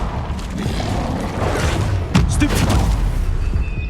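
Incendio fire spell cast in Hogwarts Legacy, a loud booming whoosh that swells midway with crackling bursts, layered over continuous game combat noise.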